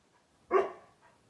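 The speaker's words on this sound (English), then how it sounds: "What are you barking at?" A single short, sharp dog bark rings out once indoors, fairly close and clear, then fades quickly against a quiet background.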